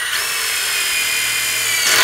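A power drill drives self-drilling screws through metal while repairing a Dominator jack, giving a steady, close, buzzing whine for about two seconds that rises slightly at the end.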